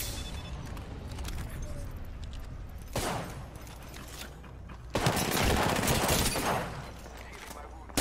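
Apex Legends gunfire crackles in a bursts of rapid shots, with a short volley near the three-second mark and a louder sustained spray later, close and fairly loud over game ambience while players talk.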